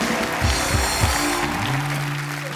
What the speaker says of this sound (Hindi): जोरदार तालियां जैकी और टाइगर के लिए।